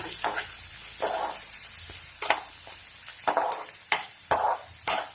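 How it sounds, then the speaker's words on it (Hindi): Bay leaf, ginger and green chilli fry in a pan with a soft, low sizzle, broken by repeated sharp scrapes and stirring clatters at irregular intervals. "इन सबको आप अच्छे से फ्राई होने दीजिए"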